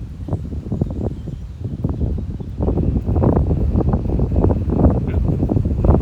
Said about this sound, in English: Wow, feel that wind now.